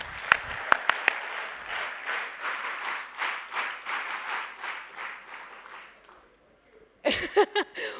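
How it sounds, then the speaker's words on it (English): An audience at an education talk gives a rehearsed welcoming round of claps, opening with a few sharp single claps before rolling into steady, moderately loud applause that fades, then a final burst of rhythmic claps. "I want you to welcome him with the claps we rehearsed."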